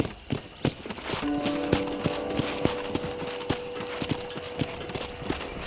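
Horse hooves clip-clop at a steady walking rhythm in Red Dead Redemption, the regular thuds fairly close over a low ambient bed, with a faint tonal hum running through the middle.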